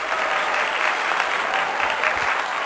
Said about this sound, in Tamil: திருமதி விஜய் ஜெகதீஷ் அவர்களுக்கு பலத்த கைத்தட்டல்